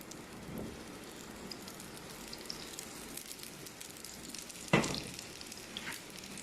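An egg paratha fries in oil in a pan over very low heat, giving a steady, soft sizzle and crackle throughout, with one sharp clink of a utensil partway through.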